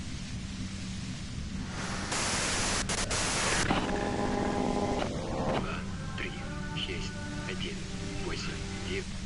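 Loud, steady white-noise static hisses in the Disco Elysium video game, with a sharp surge partway through. Tonal game sounds and a speaking voice come and go over it.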